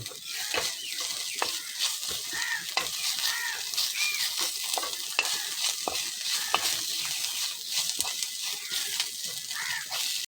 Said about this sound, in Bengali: আমি আদা রসুনের পেস্ট দিয়ে দিলাম